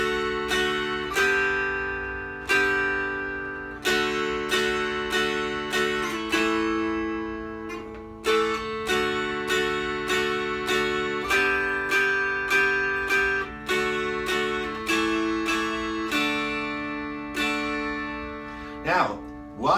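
Mountain dulcimer strummed through the tune Boil Them Cabbage Down played straight with no accents, steady even strums with one per melody note and a droning bass, close and clear with no talking.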